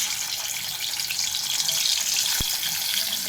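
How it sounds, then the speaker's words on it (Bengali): Dhela fish frying in hot oil, a dense continuous sizzle and hiss that stays steady throughout, with a single brief clink near the end. "আমার তেলটা গরম হয়ে গেছে, আমি এক এক করে মাছগুলো ছাড়বো"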